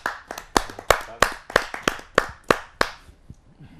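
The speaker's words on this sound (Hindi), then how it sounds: "आप सबकी जोरदार तालियों से" A round of audience clapping at a Hindi poetry gathering, about ten sharp claps in a steady rhythm, fairly close, trailing off at the end.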